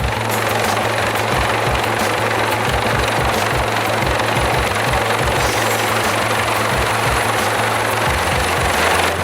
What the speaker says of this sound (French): ils réalisent eux aussi un entraînement d'hélitreuillage. Cette fois avec un hélicoptère de la Marine nationale.